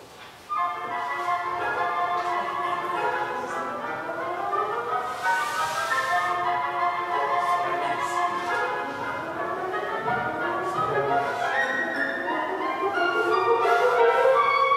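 Orchestral passage from Pictures at an Exhibition, with flutes playing grace notes, oboes, bassoon and viola, heard as sustained, overlapping melodic lines at moderate level, growing slightly fuller toward the end.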